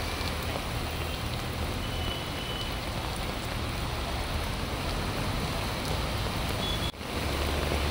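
Heavy rain pours steadily over Chembur in Mumbai during waterlogging, a constant dense hiss of falling water without pause and a brief dip near the end.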